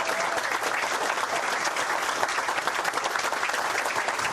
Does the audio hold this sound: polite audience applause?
yes